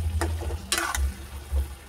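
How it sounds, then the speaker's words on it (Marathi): Kashmiri red chili powder going into a pan of sizzling coconut-based masala for dry chicken, a steady frying hiss broken by a few short scraping and clattering stirs. "आता आपण याच्यात मिरची पावडर टाकतो, थोडीशी काश्मीरी लाल मिरची पावडर आहे कलरसाठी।"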